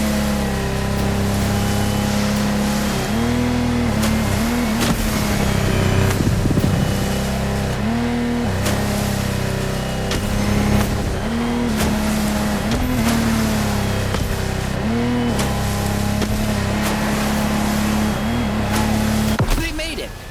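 Racing powerboat engines from The Crew Motorfest, including a Lamborghini Technomar, drone loudly and continuously with shifting revs and rushing wind and water, while a voice talks over them.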